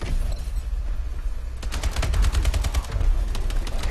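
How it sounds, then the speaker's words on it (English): Rapid automatic gunfire in Call of Duty: Advanced Warfare, loud bursts of evenly spaced shots that start partway through and continue to the end over a low game rumble. "This guy just drop shot at me when I wasn't even shooting at him."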